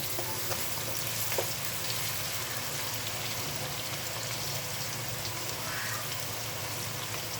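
Potatoes and spinach fry in a pan while being stirred, giving a dense, constant sizzle with occasional soft scrapes and no talking.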